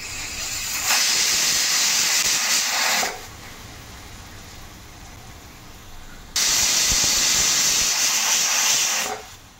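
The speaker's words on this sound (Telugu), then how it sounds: "3 విసులు వచ్చేదాకా వెయిట్ చేసి చూద్దాం." A pressure cooker on the stove lets out two long, loud bursts of hissing steam, each lasting a couple of seconds, separated by a quieter stretch of low background noise.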